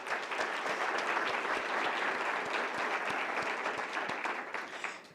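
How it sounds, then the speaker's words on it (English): An audience claps steadily at a State of the State event with New Hampshire Governor Kelly Ayotte, a dense, even wash of applause that holds for about five seconds before tapering off at the end. "So again, a round of applause."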